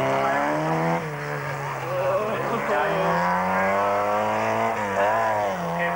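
A turbo Gemini race car climbs the King Edward Park hill climb track, engine revving loudly and close, pitch rising and dropping through gear changes and corners, with brief tyre squeal.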